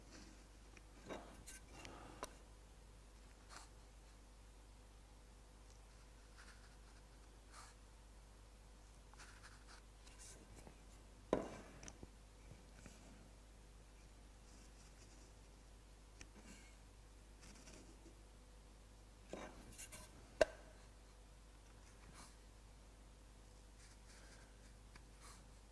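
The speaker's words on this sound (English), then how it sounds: "if they put the pencil into the gauge line, it just highlights where that gauge line is" Pencil tip dragged along a marking-gauge line on wood while laying out a mortise, giving quiet scratchy scribbling strokes in short bursts with a few sharper ticks and long gaps between them.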